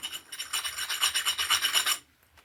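A large knife blade made from a piece of wall tile rasps steadily against a grinding stone outdoors in cold weather, rapid back-and-forth strokes close up for about two seconds before stopping.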